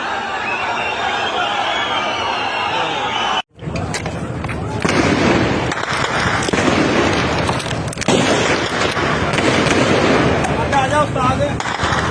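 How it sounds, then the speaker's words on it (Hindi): Gunfire at a street protest, with loud cracks and bursts in a busy, noisy scene, a brief dropout near the start, and people shouting and talking throughout. "ध्यान नाल इधरों फायर भी कर रहा है।"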